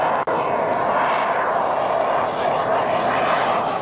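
An aircraft roars at full power as it flies away, a dense, steady engine rush that holds loud throughout, with one brief dip near the start.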